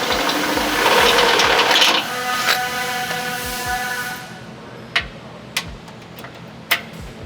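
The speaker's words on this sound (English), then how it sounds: "you're going to want to use a step bit and just open that guy up" Power drill running a step bit through the steel frame of a 2024 Toyota Land Cruiser, a steady whirring grind for about two seconds that then winds down, followed by a few sharp metallic ticks.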